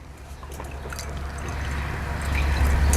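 Test mix pours through a 50 mesh screen, a steady close liquid trickle and splash that swells slightly louder as it goes, with no talk.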